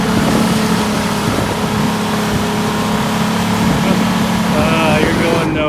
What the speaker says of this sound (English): it doesn't help that we're holding it wide open through mud